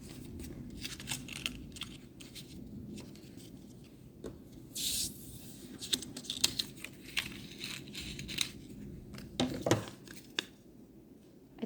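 Scissors cut scrapbook or stationery paper for a Christian craft gift, giving close, irregular snips and crinkles with bursts of paper rustling and handling, and no talk.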